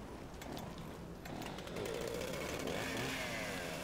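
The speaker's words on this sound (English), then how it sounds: "What do I hear, a chainsaw or a drill?" In Resident Evil: Revelations 2, a chainsaw or drill whines and buzzes for a few seconds, fairly faint and in the distance, with a rough, revving growl.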